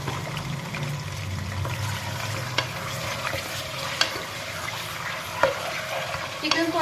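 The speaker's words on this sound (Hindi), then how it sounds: "अब मैं इसमें शामिल कर दूंगी 1 किलो चिकन इसमें शामिल करके चिकन को अच्छे से हम कर लेंगे फ्राई।" Chicken frying in hot ghee, a steady close sizzle with occasional stirring clicks and a brief pour-like splash near the end.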